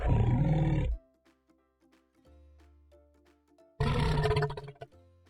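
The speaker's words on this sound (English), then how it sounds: "Crocodile." A crocodile gives two deep, loud rumbling roars separated by a quiet gap that holds soft plinking music, with each bellow cutting off abruptly.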